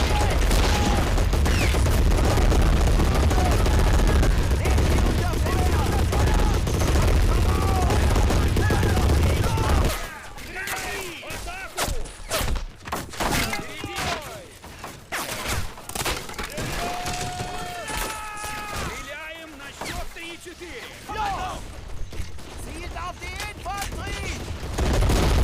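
Continuous machine-gun fire in the Men of War video game, a steady stream of shots during a Soviet bridge assault, loud and dense at first, then thinner bursts with scattered impacts.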